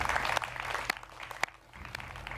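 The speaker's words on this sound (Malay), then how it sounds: "Beri tepukan untuk mereka." Audience at the final stage of a junior Quran recitation competition applauding the finalists, a short burst of scattered claps with a few sharp, close hand strikes over a hall murmur.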